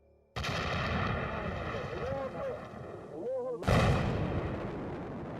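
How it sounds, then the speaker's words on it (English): Dynamite blasts destroying the 1,500-year-old Bamiyan Buddha statues in Afghanistan: two sudden loud explosions with long rumbling tails, and voices faintly audible between them. "سپس آنها را به طور کامل منفجر کردند"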